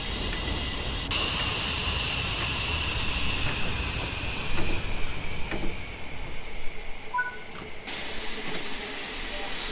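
Vintage steam locomotive in Train Sim World being braked, a steady broad hiss of steam and air lasting throughout with faint rail clanks, the hiss briefly cutting in and out near the start and end.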